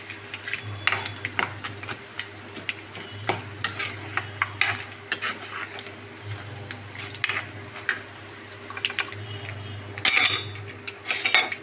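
Onions and green chillies sizzle in a pan while a metal spoon stirs and scrapes against it, with irregular clinks over a steady low frying hiss. There is no talking.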